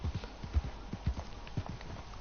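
Horse hooves gallop in Red Dead Redemption 2 during a horse race, a quick rhythmic clip-clop of repeated thuds, close and moderately loud with no talk over it.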